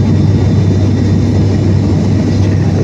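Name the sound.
airplane cabin engine noise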